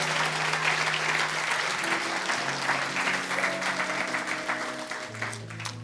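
A church congregation applauds steadily and loudly throughout, with sustained organ or keyboard tones underneath and a few voices mixed into the dense clapping.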